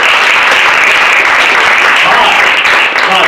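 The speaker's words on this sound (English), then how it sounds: "Let's give them a round of applause." Sustained applause from a seated audience at a sales meeting, a dense, even roar of many hands clapping for the whole stretch, loud and close.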